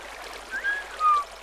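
Flowing water in the Minecraft video game, a soft steady trickling stream with faint watery tones, quiet and brief with no talking.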